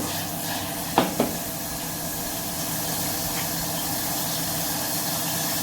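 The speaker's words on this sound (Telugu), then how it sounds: "నూనె కాగిపోయింది కదా, వెల్లుల్లిపాయలు వేస్తున్నాను" Garlic cloves dropped into hot oil for a Telugu chintakaya pappu tempering give a steady close sizzle and hiss, with two sharp spatters near the start and no talking.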